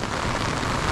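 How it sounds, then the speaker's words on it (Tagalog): Steady heavy rain falls on surfaces on a rainy afternoon at an outdoor food cart, forming a dense, even hiss that fills the whole moment with no voices. "Patitilayin lang natin tong ulan."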